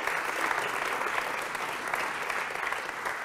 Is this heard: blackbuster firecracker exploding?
no